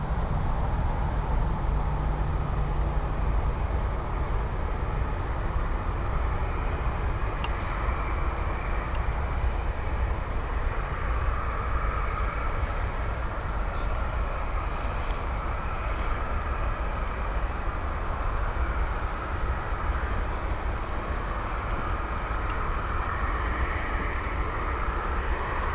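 A Ryanair airliner rolls for takeoff on runway 10 right at Dublin Airport, its engines a steady, broad roar heard from a distance that holds without a break.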